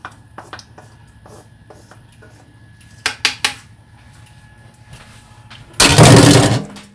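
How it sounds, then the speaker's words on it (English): Hominy goes into a pot of menudo and gets stirred, with scattered light clinks and knocks of a spoon against the pot, then a louder, rushing burst near the end. "I placed my hominy in, and I'm just going to give it a stir, like so."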